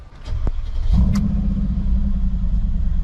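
Mercedes G63 AMG engine cranks and fires up, then settles into a steady, deep idle rumble, heard close with no talking.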